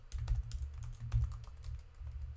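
Rapid keystrokes on a computer keyboard as code is typed, a dense, close, uneven clatter of clicks with heavy low thumps, running steadily with no talk.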